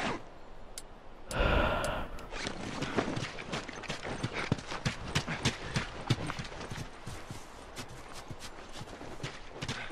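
Rhythmic clip-clop of horse hooves trotting steadily in The Last of Us video game, preceded by a short breathy rush of noise, with a constant background bed throughout.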